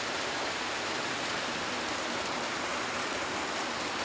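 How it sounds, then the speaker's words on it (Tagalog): Heavy rain pours steadily in a dense, unbroken hiss, close and loud, with no voices. "sobrang lakas ang ulan dito"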